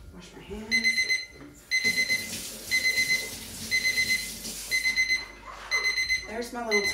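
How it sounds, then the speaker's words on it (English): A kitchen timer beeps in repeated rapid bursts, loud and close, with short pauses between each ringing burst. "There's my little timer."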